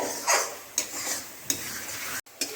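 Spice paste for chicken butter masala sautéing in a pan, with a steady soft sizzle broken by a few sharp scraping stirs of a spoon against the pan, close and moderately loud.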